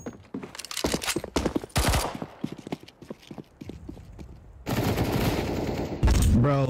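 Gunfire in a video game comes in rapid bursts of sharp shots, mixed with quick clattering game sounds and a louder sustained burst near the end, fairly close and punchy.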